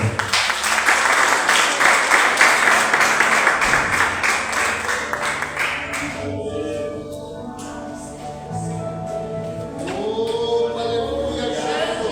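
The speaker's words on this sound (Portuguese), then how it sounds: "as palmas do Senhor" A church congregation at a Lord's Supper service claps loudly and densely for about six seconds, then the applause fades and gives way to voices and tonal sounds like singing or music.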